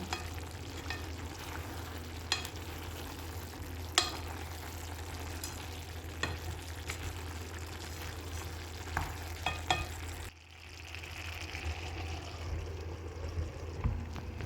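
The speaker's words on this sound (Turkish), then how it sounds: "Harika bir şekilde pişiyor kerevizimiz ve Şöyle biraz karıştırmak istiyorum." Celery cooking in olive oil in a pan, stirred with a utensil: a continuous close sizzle with scattered clicks and scrapes of the spoon against the pan, softening slightly toward the end.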